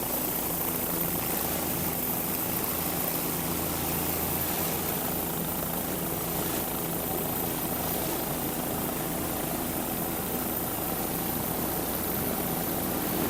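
A Factory 2 offshore racing powerboat from the Talisman Racing team roars past at Key West, a loud continuous engine drone heard from a moderate distance, alone without voices.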